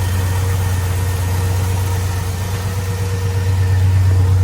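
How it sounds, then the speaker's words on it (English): A 1969 Camaro engine idling after a cold start, with a steady low rumble and a constant whine from its two-speed Powerglide transmission, close and loud and unbroken throughout, no voices. "the 2-speed power glide that just whines, but they don't die"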